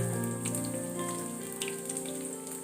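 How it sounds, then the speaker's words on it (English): Sliced onion frying in heated oil gives a steady, close crackling sizzle with dense popping, heard alone without talk. "Fry the onions till it's about transparent, nicely fried."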